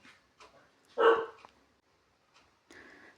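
A dog gives one sharp bark in an otherwise quiet room, with a few faint softer sounds before and after.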